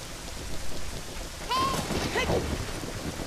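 Rain in The Legend of Zelda: Ocarina of Time, a continuous hiss of falling water with a brief tonal in-game chime or effect partway through, moderately loud with no talking.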